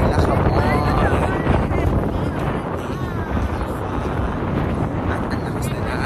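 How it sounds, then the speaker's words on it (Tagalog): Strong wind buffets the microphone on the shore of Lakawon Island, a dense, steady roar throughout, close and loud, with no breaks. "At ang lakas na ng hangin."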